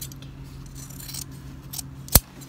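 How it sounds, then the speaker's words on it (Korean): A single sharp snip of scissors cutting through the armhole seam allowance of a sleeveless dress during clothing alteration, close and distinct over a quiet room hum. "그리고 시접을 잘라줍니다."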